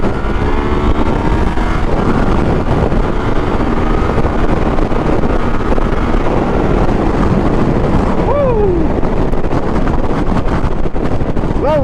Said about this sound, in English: Very windy today, boys, very windy.